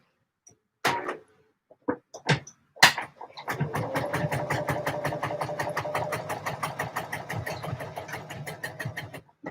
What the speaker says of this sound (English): so sew my string in place